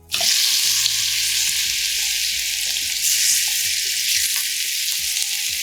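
Boiled, cubed potatoes fry in a pan with jeera, a steady loud sizzle that sets in abruptly and holds throughout, with faint stirring scrapes underneath and no voices.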